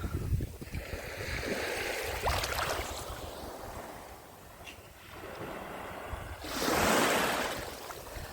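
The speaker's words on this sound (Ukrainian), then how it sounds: "Подивіться на морічка, яка чистенька, яка класна водичка." Sea waves at Langeron beach in Odesa at sunrise wash in and out in slow surges, one swelling louder near the end, with wind buffeting the microphone.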